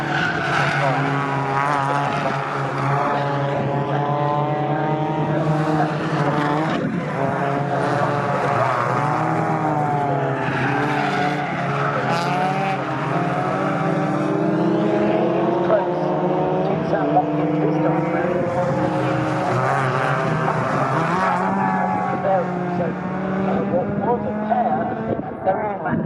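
Ford Fiesta ST150 race cars roar past at Snetterton circuit, engines droning and shifting pitch continuously and loudly, with a commentator talking over the racing.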